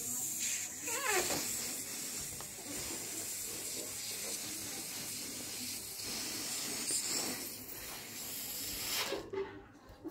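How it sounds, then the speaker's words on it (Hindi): Air let out slowly from an inflated balloon makes a long, continuous close hiss with a wavering squeaky edge, ending in a brief rubbery scrape. "तो हम भी धीरे धीरे गुब्बारे की हवा छोड़ेंगे"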